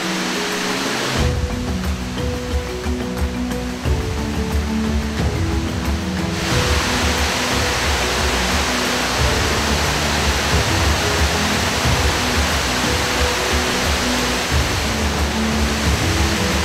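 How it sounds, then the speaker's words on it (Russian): A waterfall in a park in Goiás, Brazil roars steadily and loudly throughout, a dense continuous rush of falling water with no voices. "Это какой-то волшебный водопад, потому что он как с картин."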